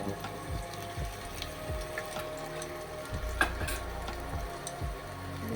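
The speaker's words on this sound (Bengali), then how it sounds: "দুটো তেজপাতা জুলিয়ান করে কাটা কিছু আদা তেলে দিয়ে দিলাম" Bay leaves and julienned ginger sizzle in hot oil, a steady soft crackling hiss at low level with occasional stir clicks and a faint background hum.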